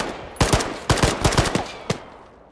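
Enemy machine gun fire in a video game set in Chernarus, heard as several short bursts of loud, sharp shots at fairly close range, with brief pauses between the bursts and no talking.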